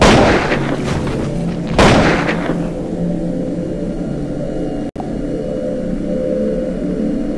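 Gunshots in the Dead Target shooting video game: two heavy booming shots near the start, followed by a steady low droning background and one sharp brief click midway.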